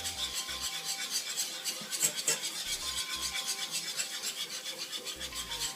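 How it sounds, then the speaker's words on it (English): A roux being whisked in a pot, with a quick, rhythmic scraping of the whisk against the pot, close and steady, running on alone without any talk. "Get this all whisked together."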